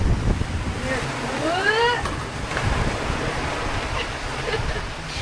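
Waves rush and splash against a sailboat hull during an Atlantic Ocean crossing, a steady churning wash with wind noise and brief voices mixed in.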